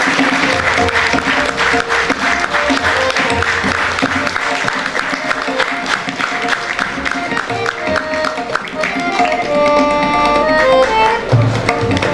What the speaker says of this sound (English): Let's start once again with the clapping.